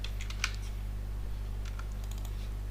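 Light taps on a computer keyboard come in two short bursts, close and quiet over a steady low electrical hum, with no one talking.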